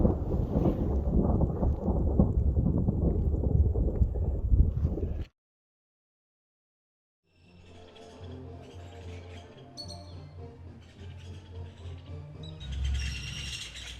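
Distant thunder rumbles low over freezing high ground near Pico de Orizaba, by Tlachichuca in Puebla, Mexico. It comes after a burst of steady wind-like noise and a short silence, with bird chirps scattered over the faint rumble.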